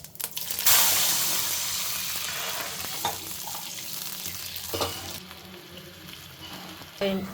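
Cumin, mustard seeds and curry leaves fry in hot oil for upma, giving a steady close hiss with a few sharp pops and clatters that fades slightly, with no talking.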